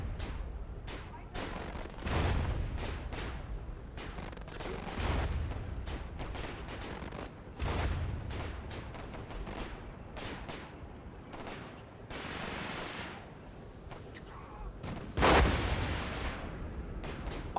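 Tanks fire in the World War video game Warfare 1917/1944 amid battle, with repeated cannon booms and crackling gunfire over continuous combat noise, some blasts heavier than others, and a voice talking throughout.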